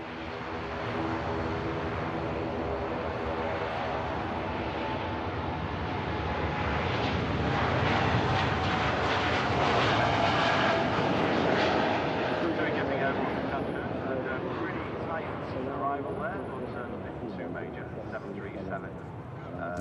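A Boeing 787 Dreamliner takes off at Manchester Airport, bound for Cancun. Its broad jet roar swells toward the middle and then slowly eases, heard at a distance while someone talks steadily over it.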